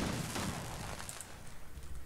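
Reload explosion of the Zappah, a modded weapon in Fallout 4, heard as a dense, rumbling boom that fills the clip with broad noise and a low, rolling tail, without voices.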